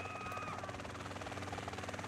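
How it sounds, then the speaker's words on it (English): Sea Sparrow helicopter in GTA San Andreas, a steady loud rotor thrum with a continuous engine whine, close and sustained throughout with no talk. "No way, that's a helicopter."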